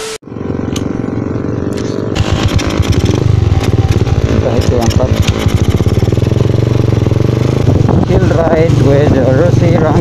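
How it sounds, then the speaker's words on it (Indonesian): A Rusi Rango 125, a small classic-style 125 cc motorcycle, is ridden with its engine running loud and steady throughout, rising in revs after a brief idle at the start, and wind rush is mixed in. "this time, i-chill ride na to ning Rusi Rango 125 owned by Cyril."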